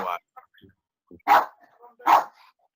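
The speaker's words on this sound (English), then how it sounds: "I think my dog's barking" A pet dog at home, set off by someone's fireworks, barks three times at spaced intervals, sharp and moderately close, with faint softer sounds between the barks.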